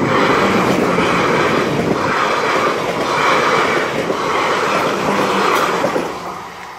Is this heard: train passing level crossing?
yes